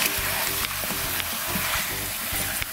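Chicken masala sizzles loudly in a pan while being stirred, a steady crackling fry with repeated scraping strokes of the spoon, close up and without talk.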